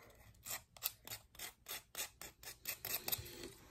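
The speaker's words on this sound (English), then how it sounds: "just smoothing out the grip tape" Rhythmic rubbing strokes smooth grip tape on a new fingerboard deck, about a dozen short rasping passes in steady succession, close and fairly quiet with no voices.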